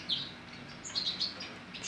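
Young birds about twenty days old kept together in a group, giving faint high chirps and short tweets in scattered bursts over a soft background, no talking.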